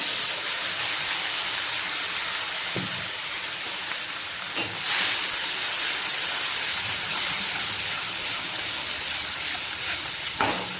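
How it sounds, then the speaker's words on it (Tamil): Ginger, garlic, green chilli and tomato paste sizzles in hot oil with sautéed onions, a steady close hiss like rain, broken by a few sharp spatters and stirring knocks, with no talking. "இப்போ இஞ்சி பூண்டு பச்சை மிளகாய் தக்காளி இந்த பேஸ்ட்டை வெங்காயத்தில் சேர்த்துக்கிறேன்."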